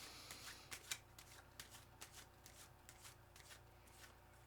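Tarot cards are shuffled by hand in a continuous run of soft papery slaps and flicks, close and quiet, with a faint steady hum beneath.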